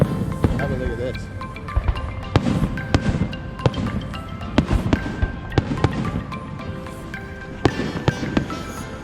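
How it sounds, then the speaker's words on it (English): Fireworks burst over a public display watched by a crowd, a rapid, irregular string of sharp bangs and crackles, some close and loud, others fainter, with crowd murmur and voices running underneath. "for everybody watching the fireworks going off"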